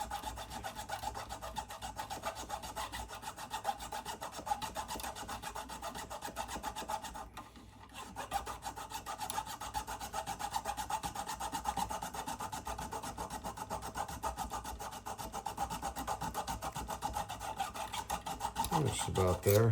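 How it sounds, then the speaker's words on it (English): A file rasps excess bone off a guitar nut in quick, even back-and-forth strokes, close and continuous, pausing once briefly before carrying on. "And now we're going to file that out."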